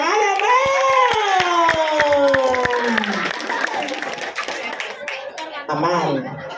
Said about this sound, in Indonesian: Tepuk tangan ya, Bang.